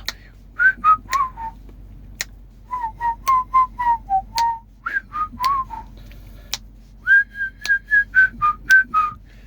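Someone whistles a short melody in bursts of quick notes, close and clear, with brief pauses between phrases.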